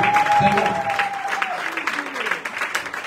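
A church congregation applauds during an Easter Sunday service, a dense patter of clapping that stays steady throughout, mixed with some voices and a brief sung or spoken tone early on.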